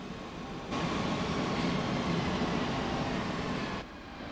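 A train rolls into a station in the Transport Fever 2 video game, a steady, loud rumbling roar of wheels and carriages that swells in abruptly, holds evenly for about three seconds, then drops back to a quieter background hum.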